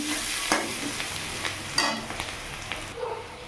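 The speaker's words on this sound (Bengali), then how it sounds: "একটু গোটা জিরে ফোড়ন দিলাম একটু লাল লাল হয়ে যাক" Whole cumin seeds sizzle and crackle in hot oil, a constant frying hiss with scattered pops and light stirring scrapes, close and fairly loud.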